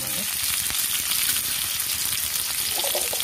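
Chopped green chilli and tomato hit hot oil for a cabbage pakora dish, giving a loud continuous sizzle and crackle close by, with a faint voice briefly underneath.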